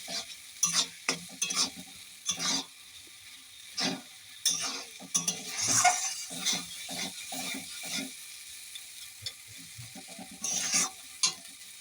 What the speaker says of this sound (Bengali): সেই কাঁকড়াটা দিয়েও কিছুক্ষণ আমি এই মশলার সঙ্গে নাড়াচাড়া করে নিচ্ছি।